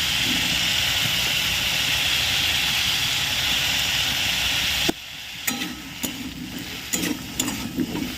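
Vegetables sizzle loudly and steadily in a pan with salt and turmeric for about five seconds, then the hiss drops away abruptly and a few sharp scraping and stirring clatters follow.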